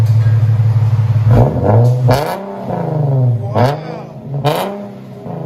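Straight-piped 3.7L V6 exhaust of an Infiniti G37X all-wheel drive revving hard several times in close succession, loud and near, each blip rising then falling back to a rumbling idle, with a brief exclamation from someone nearby.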